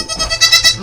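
A one-week-old baby goat bleats close by in a short, wavering, high-pitched cry with a quick pulsing tremble.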